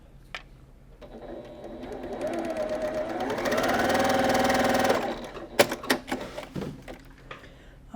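A sewing machine stitching flying geese quilt pieces hums up for a steady four-second run, loud and close. It stops with a few clicks and handling knocks afterward.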